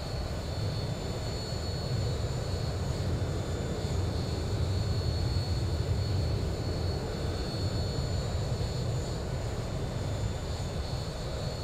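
Boeing 737-800 jet engines drone in the X-Plane 11 flight simulator during an approach with gear and flaps down, a steady broadband roar with a thin high whine that holds unchanged throughout.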